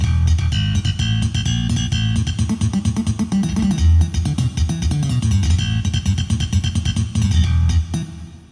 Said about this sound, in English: Slap bass.